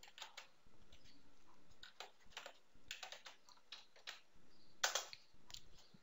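Keys on a computer keyboard clatter in quick uneven bursts as a command is typed, close and crisp, with short pauses and one louder cluster of taps near the end.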